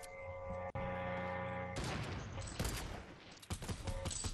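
Rifle shots in a video game: loud cracks hit in a quick run after a stretch of steady game music and tones, the later shots sharp and close together. No one speaks.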